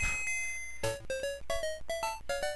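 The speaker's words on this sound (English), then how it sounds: "Let's go ahead and ring that bell." A bell ringing in the video game Super Mario Land 2: a bright electronic chime, then a rapid series of about six ringing dings in a steady rhythm, clear and close with no voices.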